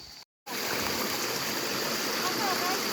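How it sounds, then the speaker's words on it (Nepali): A forest river stream flows steadily in a jungle in Nepal, a broad continuous rush of water that fills the clip after a brief dropout near the start, with no voices. "हामी चाहिँ खोलामा आइसकेको छौँ गाइजहरू यो खोला तरेर जानुपर्ने रहेछ"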